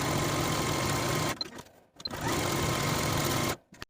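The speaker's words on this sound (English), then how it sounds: "Then we're going to take it to the sewing machine and sew close to both long edges from top to bottom." A sewing machine stitches down the long edges of a folded fabric strip, running in two steady, close whirring bursts separated by a short pause, with a brief stop at the end.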